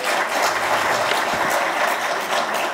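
A hall audience at a Labor Day commemoration and committee founding ceremony gives sustained, dense applause. The clapping is loud and steady throughout.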